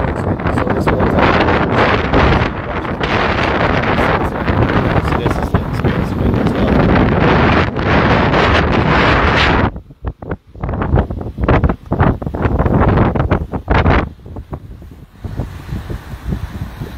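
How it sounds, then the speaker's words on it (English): Strong wind at Martins Bay buffeting the microphone in loud, continuous roaring gusts that drop away briefly and then return in choppy bursts. "I know it's windy"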